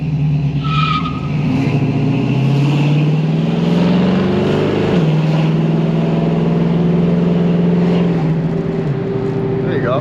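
A 1969 Ford Mustang fastback engine drones loudly and close while being shifted manually, its pitch climbing through a gear, dropping sharply at a shift and climbing again, with a second shift near the end.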